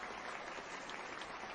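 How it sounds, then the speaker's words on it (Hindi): Steady applause from a crowd honouring a teacher, dense and continuous clapping throughout, fairly quiet and even, with no voices standing out. "उनके लिए जोरदार ताली।"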